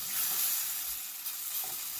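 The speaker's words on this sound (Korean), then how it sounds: "냄비에 오일 두르고 썰은 김치 넣고 참기름 조금 넣고 달달 볶아요" Chopped kimchi is stir-fried in a pot with oil and a little sesame oil, giving a steady close sizzle with faint stirring scrapes throughout.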